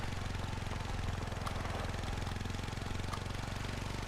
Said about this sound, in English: This is a quad bike.